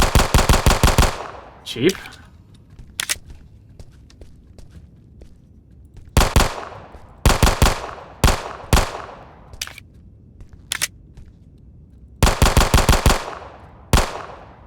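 Rapid bursts of video-game gunfire aimed at an armored steel enemy in Who Knocks, loud, close clusters of shots separated by short pauses, with a brief spoken word between volleys.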